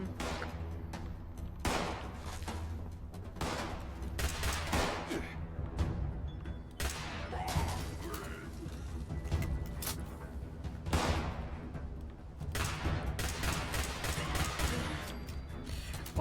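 Repeated gunfire from a firearm in the Fallout 76 video game, bursts of shots over a continuous game soundscape of thuds and rumble, sustained throughout at moderate level.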